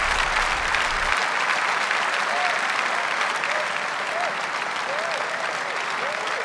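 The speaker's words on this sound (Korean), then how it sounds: "여러분의 박수치는 소리를" A church congregation applauds during a sermon, dense continuous clapping from a large crowd that holds steady from start to finish, with faint voices mixed in.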